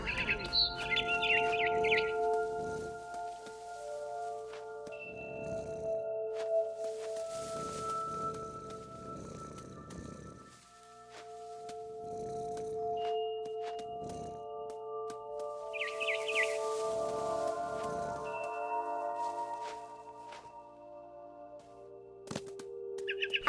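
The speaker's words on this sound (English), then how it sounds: "Then I heard chirping outside my window. It was a barn swallow going back to her nest." A barn swallow chirps near a window on its way back to its nest, giving short, bright clusters of chirps at intervals against a steady tonal background.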